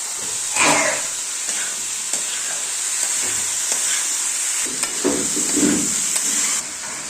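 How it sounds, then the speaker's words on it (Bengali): Boiled potato and chickpeas tumble into a hot frying pan with tomato, setting off a loud, steady sizzle and hiss with scraping stirs and bursts of spatter throughout. "এই ছোলা আর আলু সিদ্ধটা দিয়ে দিলাম"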